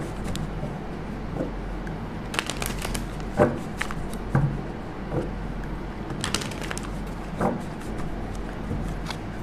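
A tarot deck is shuffled by hand, giving soft papery riffles and taps in irregular bursts close to the listener.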